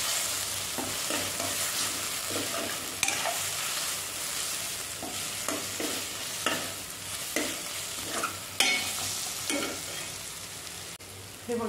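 A spoon scrapes and stirs turmeric and coriander powder into an oily mixture frying in a pan for mashed eggplant, giving irregular clinks and scrapes over a soft continuous sizzle, close up and without talk.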